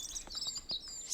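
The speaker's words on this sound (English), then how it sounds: "Just hear the birds chirp." Birds chirp in the Botany Manor video game, a few short, bright tweets in quick succession, clear and moderately close over a quiet background.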